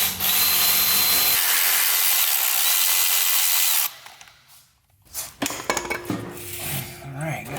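A power tool, likely an impact gun or drill, working a starter bolt loose on a Ford 6.4 diesel engine in a shop, a loud steady whir for several seconds, then quiet metallic clinks and rattles.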